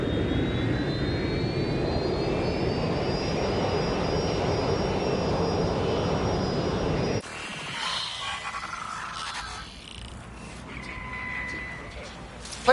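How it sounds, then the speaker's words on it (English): A jet airliner's engines roar steadily and loudly in the game Watch Dogs Legion, a broad continuous drone with a slowly rising whine, then the roar cuts off abruptly and gives way to quieter mixed game sounds. "Rerouting plane."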